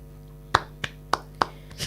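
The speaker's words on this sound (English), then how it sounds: "Why are you clapping?" A few people clapping in a youth-parliament discussion studio, four or five sharp separate claps spaced irregularly across under two seconds, close and crisp with nobody speaking.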